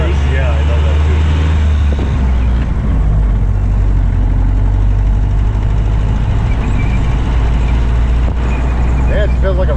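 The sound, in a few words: 1930 Model A Ford engine and gears running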